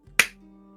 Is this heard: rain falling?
no